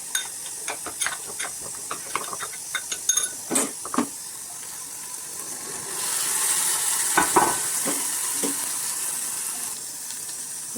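Spice paste of tomato, chilli, turmeric and coriander-cumin fries in oil for a vegetable curry, with a run of sharp spoon scrapes and taps over a soft sizzle, then a steadier, louder hiss of frying toward the end.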